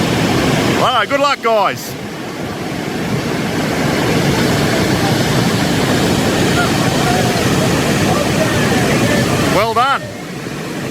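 Grade 4 whitewater rapids on the Tully River roar as a loud, steady broadband rush close by, with people briefly talking and cheering over the torrent near the start and end.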